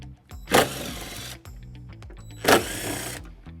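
A powered driver with a 10mm socket spins out two taillight screws on a 2002 Infiniti QX4, two short whirring runs each opening with a louder burst, close up.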